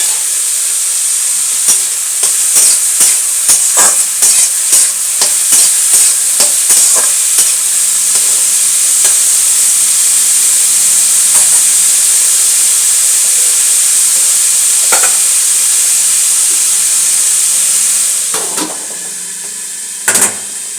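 Banana stem frying in a pan with mustard seeds, dried chilli, turmeric and salt, a loud continuous hiss and sizzle with irregular clinks and scrapes of stirring, tapering off near the end.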